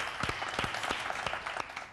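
Applause for a harpist from a seated audience, a fairly quiet, brief patter of many hands clapping with a few sharper claps standing out, fading slightly at the end.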